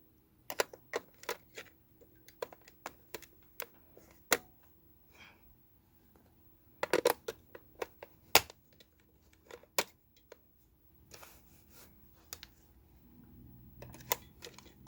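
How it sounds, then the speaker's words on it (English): Batteries being fitted into an Omron upper-arm 3 Series blood pressure monitor, a string of close, sharp plastic clicks and snaps with irregular spacing and quiet pauses, no talk. "So let's put these batteries in here."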